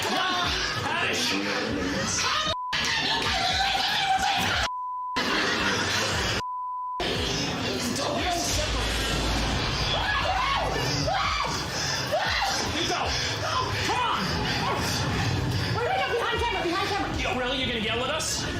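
Live Halloween-themed comedy show crowd yelling and chattering loudly throughout, a dense wall of voices with brief bleeped gaps early on.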